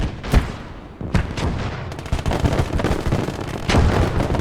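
Mortars and gunfire in the WWII strategy game Call to Arms: Gate of Hell, with sharp reports and booming impacts landing in quick irregular succession over a dense rumbling battle backdrop, loud and close without any talking.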